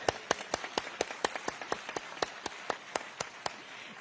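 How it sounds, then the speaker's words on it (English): A single person clapping in a slow, steady rhythm at a student address event, about sixteen sharp, evenly spaced claps, fairly faint and close, with no voices. "Please give her a big round of applause."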